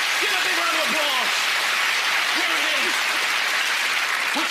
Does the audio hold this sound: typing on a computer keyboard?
no